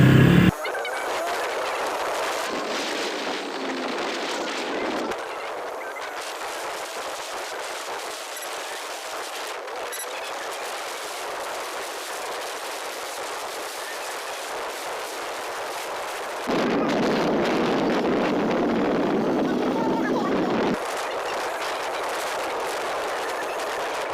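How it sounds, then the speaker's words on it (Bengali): A H Power Loncin GP 165 motorcycle engine starts and runs steadily while riding along a wet, rain-soaked village road, a loud continuous drone with wind noise that swells and eases as the ride goes on; no talking. "বাইকটা এখন স্টার্ট করছি তো বাইকটা স্টার্ট হয়ে গেল"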